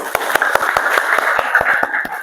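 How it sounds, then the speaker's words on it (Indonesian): A class of vocational students claps hands together on command in a classroom, a rapid run of sharp, loud claps in a steady rhythm with a little overlap, no voices. "Silahkan tepuk tangan."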